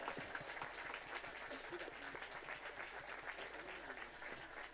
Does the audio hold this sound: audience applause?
yes